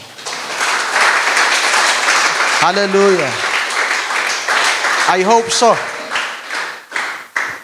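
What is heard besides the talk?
congregation applauding in church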